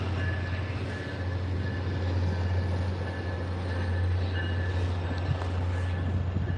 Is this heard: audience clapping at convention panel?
no